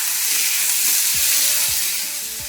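Chopped tomatoes go into a pan of frying onion, garlic and ginger for butter chicken, giving a loud, steady sizzle with a few soft stirring knocks near the end.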